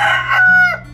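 A rooster in a chicken coop lets out one loud, close crow lasting about a second, rising and then trailing off, with no other sound.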